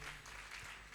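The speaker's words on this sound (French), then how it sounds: "par Madame Nzi Léocadie, qu'on acclame, s'il vous plaît." An audience claps at an excellence awards ceremony in Côte d'Ivoire, a brief, dense burst of applause heard from within the hall, fairly soft and steady.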